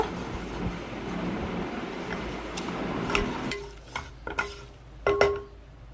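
Maida flour is stirred and sautéed in ghee in a pan, a low sizzle under scraping strokes, then several sharper clinks and scrapes of the spoon against the pan.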